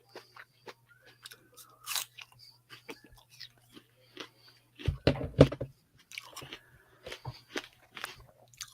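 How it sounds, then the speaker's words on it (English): Someone chews an apple close to a microphone, making irregular wet crunches and bites. One loud crunchy burst stands out in the middle, and there is no talk. "are you going to be chewing into the mic? I'm done. That was my last bit of apple for now."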